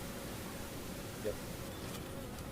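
Honeybees buzzing steadily at an open hive during a brood inspection, a continuous low drone close by with no talk over it.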